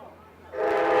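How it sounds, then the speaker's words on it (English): Metrolink commuter train passing in the background at a women's college softball game, a broad rushing rumble swelling up suddenly halfway through and holding steady, fairly loud over ambient crowd noise. "See the Metro Link in the background."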